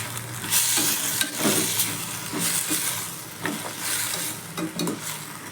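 Sliced vegetables sizzle and crackle in a hot pan with dried small prawns while a spoon stirs and scrapes them around repeatedly, close and fairly loud.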